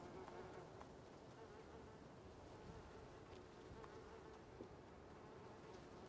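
Insects, bees or flies, buzz steadily in a video game. The drone is continuous and faint, fills the background, and runs alone without any speech.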